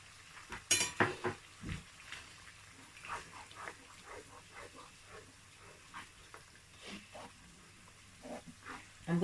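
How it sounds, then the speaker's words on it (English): Aromat seasoning frying in oil with tomato paste for a stew, stirred in a pot: soft sizzling under repeated spoon scrapes and clatters, a few sharper knocks early on, fairly quiet and close, with no voices. "I'm going to fry the Aromat inside the oil and the tomato paste."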